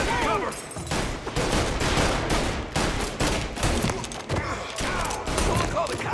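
Rapid bursts of gunfire in Mafia: Definitive Edition, loud volleys and sharp shots overlapping in a chaotic firefight, with voices in the mix.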